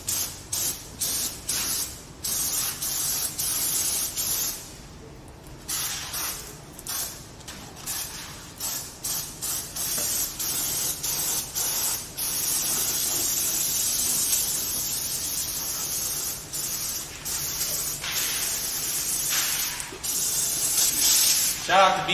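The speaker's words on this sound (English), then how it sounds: "We're gonna brake clean it off." A can of BP brake cleaner sprays in long, loud hissing bursts with brief pauses between them, close by in a shop; people talk at times.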